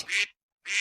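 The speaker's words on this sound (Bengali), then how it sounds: "হাঁসটাকে প্যাক প্যাক" Two short, nasal duck quacks, close and clear, separated by a brief silence.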